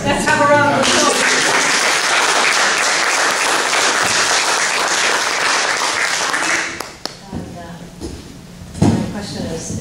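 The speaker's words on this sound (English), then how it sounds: "Let's have a round of applause." An award ceremony audience in Amherst, Massachusetts breaks into loud, sustained applause for a young poet, the clapping swelling for several seconds before cutting off into room noise and a few knocks.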